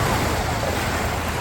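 Sea waves wash steadily onto Boracay beach, a loud, continuous surf roar mixed with wind buffeting the microphone.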